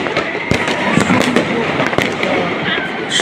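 Rapid fireworks explosions burst over the capital at midnight, with a dense wash of distant crackling broken by a few loud, nearby bangs and background crowd noise.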